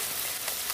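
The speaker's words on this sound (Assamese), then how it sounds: "নহৰু আৰু আদা অকণমান দি দিছোঁ তেলতে" Meat with garlic, ginger and turmeric frying in oil gives a short, dense, even hiss of sizzling, up close and alone.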